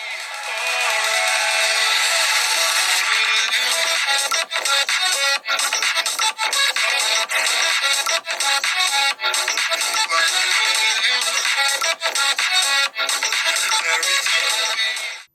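Music playing through the single bottom speaker of an iQOO Z6 Lite 5G smartphone, bright and thin with no bass, loud and continuous with brief rhythmic dropouts.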